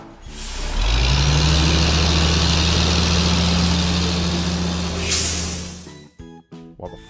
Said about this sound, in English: the flatbed truck brings the materials from far, far away